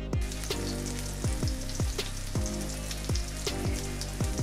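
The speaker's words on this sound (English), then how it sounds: "And then we're gonna start frying, y'all." Oil sizzles and crackles steadily as zucchini patties fry in a pan, with a continuous hiss and repeated soft popping close by, no voices.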